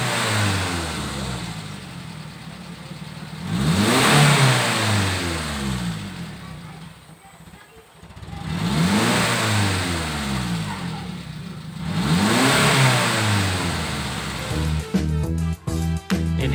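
The engine of a Daihatsu Luxio revs up three times in slow waves, each rise and fall swelling loudly over a rough, close idle, with a burst of rattling stutter at the end.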